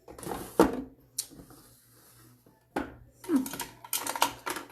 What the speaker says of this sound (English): Going through all my drawers here.